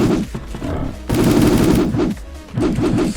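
Rapid automatic gunfire from a mutant wolf video game rattles in dense, loud bursts, with a short dip before the firing resumes.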